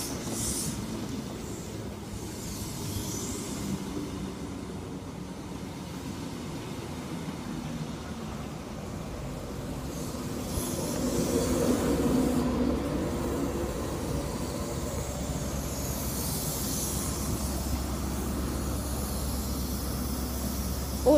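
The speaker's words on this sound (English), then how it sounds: "I'm taking this train for London, King's Cross." Virgin train from Leeds to London King's Cross running at speed, heard from inside as a steady rumbling roar with rail noise that swells midway and a low hum toward the end.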